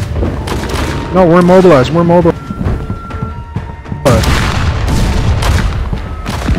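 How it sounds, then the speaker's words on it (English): Heavy booming cannon shots from a ship in the game Blackwake, loud and repeated amid battle noise, with people talking over the action. "Cannons as well."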